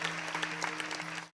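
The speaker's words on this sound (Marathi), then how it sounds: "असं एकदा वायुनंदन मंडपसाठी टाळ्या वाजा महाराज." A large crowd at an outdoor Marathi kirtan gathering breaks into dense, lively applause under a steady low hum, the clapping continuing briskly until it cuts off abruptly.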